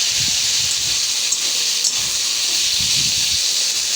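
Ground spice paste hits a hot pan and sizzles with a loud, steady hiss throughout, with faint low clatters underneath, while cooking potol chingri.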